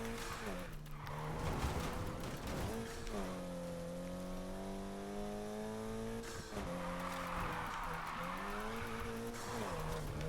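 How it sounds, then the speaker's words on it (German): Car drifting off-road in Need for Speed Heat, a loud engine holding long sliding revs with tire squeal, rising and falling through the drift, with someone talking quietly underneath. "Offroad driften hier."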